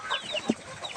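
A native chicken gives a short cluck amid other faint bird chirps, including pigeons, in a brief outdoor moment, no one talking.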